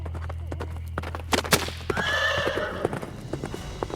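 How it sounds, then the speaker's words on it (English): Horses pull a carriage at a gallop over cobblestone streets, with rapid clattering hoofbeats close by and a loud whinny cutting through midway. "they were off, galloping through the cobblestone streets at a breakneck pace"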